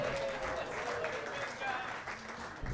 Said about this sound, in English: Ladies and gentlemen, give it up for your next comedian, Mr. Zach Wyckoff.